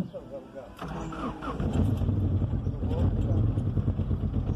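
A Ford Escort with a Zetec 16v engine cranks, catches and runs at held revs, its steady engine sound loud and close, with people talking over it.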